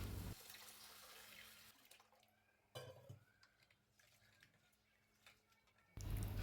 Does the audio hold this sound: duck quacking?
no